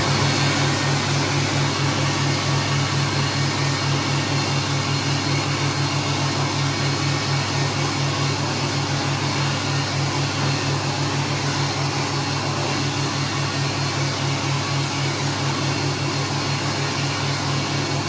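An old, worn Ander economy hand dryer branded Nulek runs in a cinema toilet, a constant loud whirring drone with a steady low hum and airy blowing rush, unbroken for the whole stretch.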